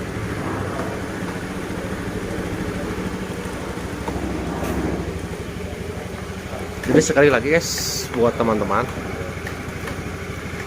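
An old Honda Beat scooter engine idles steadily after a battery replacement and restart, a close continuous mechanical hum with a few brief revs near the end, while someone talks over it.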